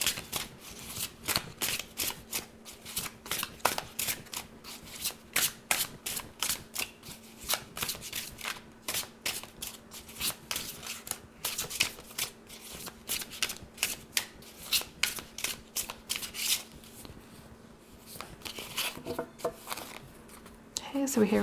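A deck of Ancient Italian Tarot cards by Lo Scarabeo is shuffled by hand, giving rapid, close riffling and flapping bursts that repeat over and over, with someone speaking at times.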